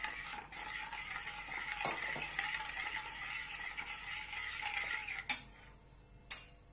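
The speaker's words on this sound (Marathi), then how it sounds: "आणि छानपैकी फिरवून घेऊया।" A spoon stirs a curd mixture into methi kadhi in a pot, giving a continuous close scraping and swishing, followed by two sharp metallic clinks against the pot at the end.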